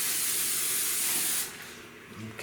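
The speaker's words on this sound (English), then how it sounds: "I'll spray our pan" Cooking spray hisses onto a lasagna pan in a home kitchen, one loud continuous spray lasting about a second and a half before cutting off, followed by faint clatter.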